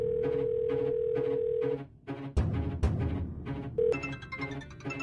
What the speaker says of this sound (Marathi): खय वाजता फोन?